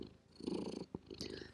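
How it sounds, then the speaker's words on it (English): A cat purring right into a close microphone, a soft rhythmic rumbling over about a second and a half, quiet and intimate with no talk. "now she's purring right into the microphone"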